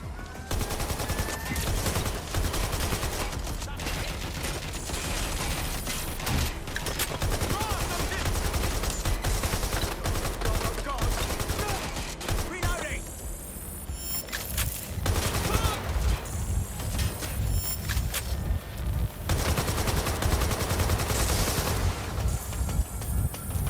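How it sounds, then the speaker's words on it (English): Dense, continuous gunfire in the video game Watch Dogs: Legion, rapid automatic bursts and overlapping shots with a brief lull midway, loud and close, with voices talking over it. "Gunshot!"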